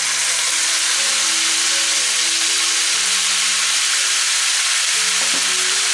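Reserved pasta water poured into a hot pan for vegetarian carbonara gives a loud, steady sizzle and hiss lasting the whole stretch, with faint tones in the background.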